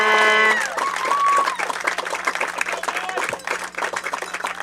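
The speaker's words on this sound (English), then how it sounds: "a big round of applause" A crowd at a Little League state championship baseball game claps and cheers in a dense, steady burst of applause that fills the whole stretch, with a brief tonal note at the start.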